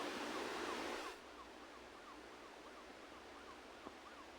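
A police siren wails in the mobile game Smashy Road Wanted 2. The rising and falling whoops repeat steadily and sound quiet, over a constant wash of background noise.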